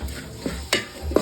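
A spoon stirs chili powder with curry leaves and onion in a pan for a Kerala-style fish curry, making a few short scraping sweeps over a faint sizzle.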